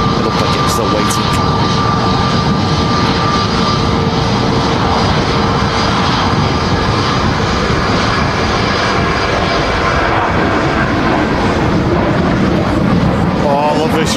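An airliner roars loudly at a very windy Manchester Airport, a steady broad rush of jet engine noise and gusting wind that fills the whole stretch without a break, with a voice speaking briefly over it.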